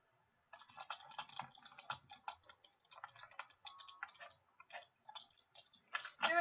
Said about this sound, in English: I hear so many keyboards.